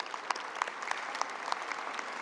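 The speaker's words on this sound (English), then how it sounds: "give her a round of applause." An audience gives a brief burst of steady clapping at a government press briefing on anti-gun violence programs, moderately distant and even throughout with no voices on top.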